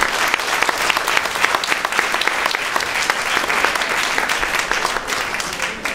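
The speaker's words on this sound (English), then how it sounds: "So a round of applause for these two gentlemen." An audience at a pizzeria event applauds two pizza makers, with dense, sustained clapping holding steady for several seconds.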